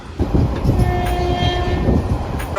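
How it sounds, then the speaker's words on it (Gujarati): A passenger train rumbles along steadily, heard from inside a general coach leaving Junagadh, with clattering wheels and a sustained horn tone, loud and close throughout. "આ ટ્રેન બે પાંચ મિનિટ ઊભી રહીને આ ટ્રેન નીકળી ગઈ છે"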